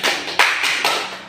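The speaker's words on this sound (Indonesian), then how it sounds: "Berikan tepuk tangan untuk dia dulu." Classroom applause for a student, a short burst of clapping from a group of people, close and fairly loud with a few stronger accents.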